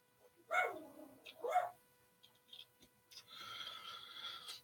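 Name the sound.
neighbors' dog barking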